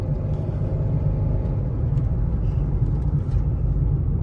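A Chrysler out on a test drive after ABS warning lights came on, heard as a steady, loud low engine and road rumble from inside the cabin, with no talking.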